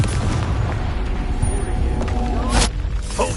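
A Confringo fire-blast spell exploding in the Hogwarts Legacy video game, a loud booming burst with heavy low rumble, followed by sharp crackling flares and lingering blast noise.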